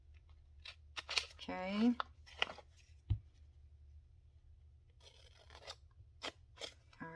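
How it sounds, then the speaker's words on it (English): Scissors snip through paper from the top edge down to a fold line, a few short crisp cuts and rustles scattered among brief spoken remarks at close range. "we're going to cut from the top here all the way to the second fold line you made"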